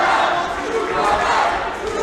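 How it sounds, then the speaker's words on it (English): A supportive crowd at an MMA fight, a broad sustained roar of cheering and shouting from a packed arena, loud and continuous throughout. "Crowd here and supportive."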